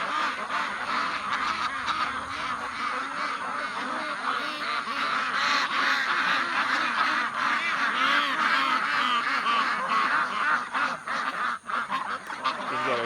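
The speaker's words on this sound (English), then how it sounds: "We've got our ducks, we've got our geese" A flock of about 200 ducks and a couple dozen geese on a rotationally grazed silvopasture, a dense continuous chorus of quacking and honking, close and loud throughout.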